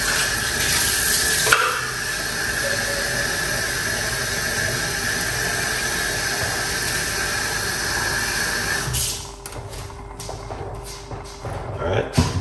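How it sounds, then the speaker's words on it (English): Jamaican strong back porridge is stirred in a cooking pot, giving a continuous scraping, hissing texture with a brief clink early on, then quieter scrapes and taps toward the end; a voice speaks over part of it. "Continue to mix it until it gets a little bit thick."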